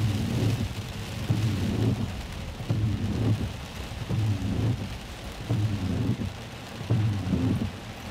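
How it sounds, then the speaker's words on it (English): Rain falls steadily outside a truck with rumbling thunder rolling in repeated low bursts, loud and close, with no talking over it. "Especially when it's raining."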